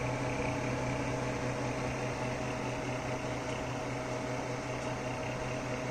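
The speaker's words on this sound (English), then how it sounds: "The slight grinding noise, that's one of the CPU fans off the Corsair radiator" A Corsair radiator's CPU fans and an RTX 3080 Ti graphics card's high-flow fans whir continuously in a steady, loud drone, with a slight grinding edge and a steady hum underneath.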